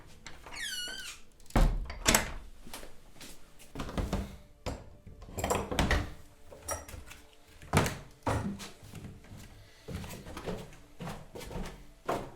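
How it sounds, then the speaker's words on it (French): A door creaks open with a high, wavering squeak, then heavy thunks and knocking clatter follow in an indoor setting in a French audio drama, with no voices. "La porte!"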